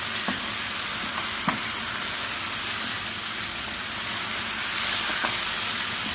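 Onions with garlic and paprika frying in a pan for Mediterranean-style chicken, producing a loud, steady sizzle with a few faint clicks from the pan.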